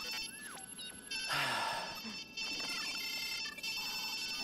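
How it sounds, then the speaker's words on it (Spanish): A telephone rings in the video game Watch Dogs 2, with repeated electronic ringtone bursts at steady volume over faint background game ambience. "Suena el teléfono."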